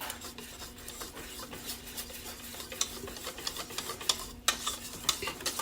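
Egg batter for onion rings is whisked in a bowl with a rapid, soft, rasping rhythm that grows a little louder near the end. Close but quiet, with no speech.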